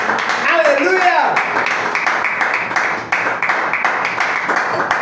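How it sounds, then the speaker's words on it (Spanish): Congregation in a church applauding God during a Sunday morning service, a dense sustained wash of many hands clapping for about five seconds, with shouting voices over it at first. "Dale un fuerte aplauso a Dios en esta mañana."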